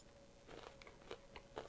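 Crunchy granola with pumpkin seeds, pistachios, nuts and coconut chips being chewed close up, a series of sharp crisp bites and crunches in irregular rhythm, quiet and without talk.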